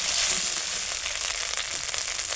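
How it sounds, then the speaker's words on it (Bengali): Ginger and green chili fry in oil, giving a dense, steady sizzle that stays loud and close throughout with no pauses. "আদা আর লঙ্কাটা ভাজতে কিন্তু একটু বেশি সময় লাগে"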